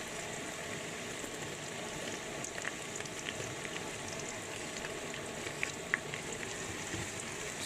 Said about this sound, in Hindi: प्याज के साथ हम हरी मिर्ची डालेंगे।